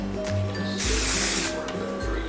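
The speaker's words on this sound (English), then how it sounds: "I'm going to spray it again" A single loud burst of hairspray hisses for under a second onto curled hair, close by, against a steady low background hum.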